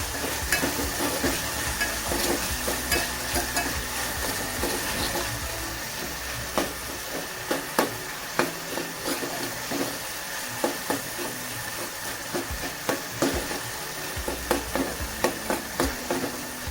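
Tomatoes softening in hot oil in a pan, a steady close sizzle with a spoon stirring and tapping in a busy, irregular rhythm that grows more clicky toward the end, no talk.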